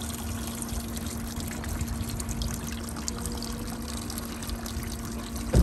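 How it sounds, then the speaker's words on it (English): Water flowing from the cooling system of a Honda BF75D/BF90D outboard motor, a steady trickling stream over a constant engine hum, with a brief louder knock at the end. "Let's see if we're gonna get some water coming out of there."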